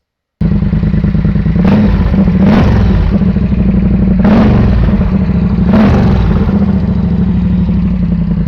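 Loud, continuous Triumph Bonneville Bobber idling through a fully open exhaust pipe, a deep throbbing rumble with four short revs rising and falling over it.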